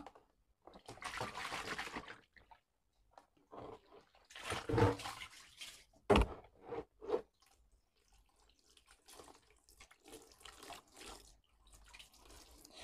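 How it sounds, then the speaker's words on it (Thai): Squid being rinsed in plain water, running and splashing in irregular bursts with pauses between handfuls, close and fairly quiet. "เดี๋ยวเราจะล้างน้ำเปล่าอีกหนึ่งรอบก็เสร็จแล้วนะคะ"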